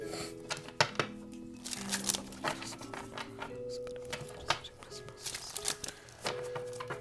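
Oracle cards are shuffled by hand in quick, crisp bursts of riffling and slapping, uneven in rhythm and close by, over a faint steady tonal background.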